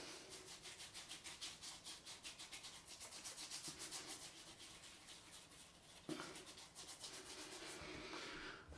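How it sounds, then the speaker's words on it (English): Hands rub beard balm into a beard with steady, rhythmic back-and-forth friction strokes, close and continuous, with a brief bump partway through. "And then I just rub that in my beard"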